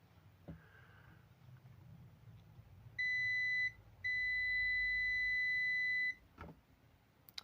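Two clear electronic beeps from a multimeter continuity test on resistors in an inverter, a short one followed by a longer steady tone, high-pitched and sharp over a quiet background.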